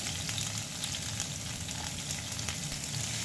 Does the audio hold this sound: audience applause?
no